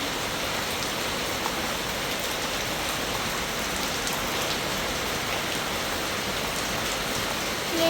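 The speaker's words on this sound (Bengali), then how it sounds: "বৃষ্টি হইতেছে" Steady rain pours down, a dense, even hiss of drops hitting surfaces that continues without a break.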